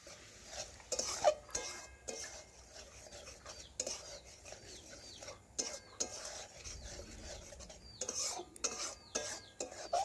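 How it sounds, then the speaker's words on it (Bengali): Mustard paste with chili powder and water being stirred and fried in a pan, with intermittent scraping and rubbing strokes of a spatula, moderately quiet and irregular, with faint sizzling underneath. "জল দিয়ে দেখুন এইভাবে নাড়াচাড়া করে একটু কষে নিচ্ছি"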